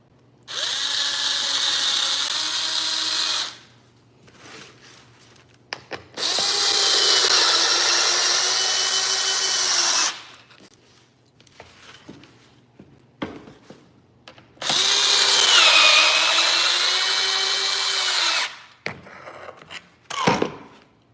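A power drill drilling a hole in a metal part whirs in three long bursts, loud and close, its pitch wavering under load, with short clanks and handling noises in the pauses.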